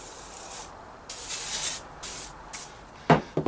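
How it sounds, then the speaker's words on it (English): Several bursts of spray hiss as oil is sprayed onto a BSA Bantam motorcycle gearbox, close and fairly loud, separated by short pauses, followed by a few quick clicks near the end. "So I'm going to spray heaps of oil on"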